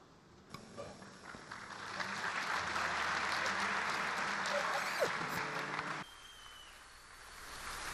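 Audience applause at a student question-and-answer event with Turkey's president, a broad steady wash of clapping filling most of the stretch before dropping away, with a faint voice near the end.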